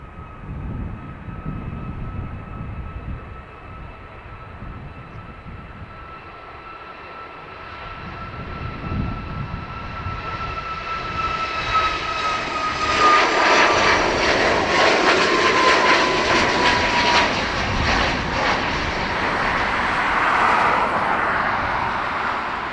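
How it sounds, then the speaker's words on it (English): A Ryanair jet departs Dublin Airport for Hamburg, its engine roar building steadily from a distant hum into a loud, broad, sustained rush with a whining tone that holds to the end. "Ryanair to Hamburg."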